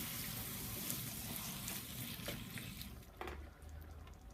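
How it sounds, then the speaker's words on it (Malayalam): Water poured into a pan holding about half a kilo of cleaned prawns for a prawn roast: a steady splashing, liquid hiss with a brief louder slosh near the end, close and alone. "ആവശ്യത്തിനുള്ള വെള്ളം ഒഴിച്ച് കൊടുക്കാം."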